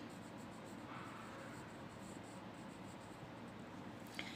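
Pen writing on paper during a general knowledge class for young students: faint, soft scratching strokes heard close up against quiet room tone, with no talk.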